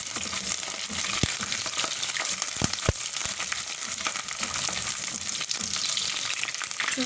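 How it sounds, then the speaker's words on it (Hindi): Onions and green chilies fry in a pan with a continuous close sizzle, broken by occasional sharp clicks and scrapes of stirring, no voices present. "3 सब्ज़ मिर्चें हैं वो भी मैं साथ ही फ्राई कर लूँगी।"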